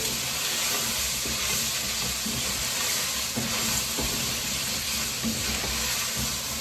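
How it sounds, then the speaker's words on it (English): Garlic fries steadily in a pan, giving a continuous bright sizzle and hiss at close range with no talking, while chicken chop suey is being cooked. "Then you just fry it through."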